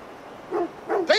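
Dog in Assassin's Creed Valhalla giving a few short whimpering yips and a bark, three brief close calls rising at the end over quiet background.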